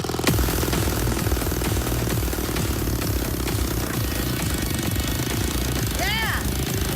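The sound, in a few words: homemade motorcycle engine running as it drives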